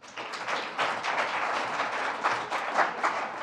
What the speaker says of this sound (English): Let's give Mitchell a big round of applause.